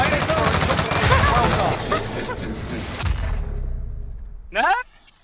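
Gunfire in Call of Duty Warzone: a dense, loud volley of rapid shots over about three seconds, then fading rumble and a short, sharp electronic chirp near the end.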